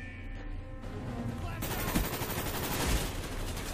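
Rapid, dense gunfire from a shooter video game, a steady stream of shots building after a quieter opening and holding loud to the end, with a few heavier bursts standing out.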